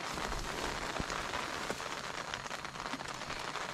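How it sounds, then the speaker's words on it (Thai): Rain falls on a tent while camping at Doi Chang Mub in Chiang Rai, a steady close patter of drops across the fabric with occasional louder single drips. "เรียกว่าเข้าเต็นท์มาทันฝนตกพอดีเลยทีเดียวนะคะ"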